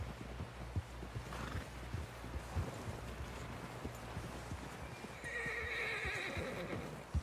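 In the open-world western game Red Dead Redemption 2, a horse snorts and whinnies over steady clip-clop of hooves, with a louder neigh late on, all under a low ambient rumble.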